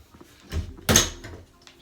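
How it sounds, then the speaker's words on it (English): A room door is pushed shut with a brief scuffle of movement and then a single solid thud of the door closing, nearby and alone. "I need to shut my door."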